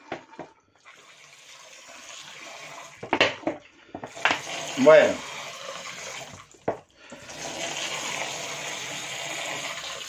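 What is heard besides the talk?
pouring water into a vinegar marinade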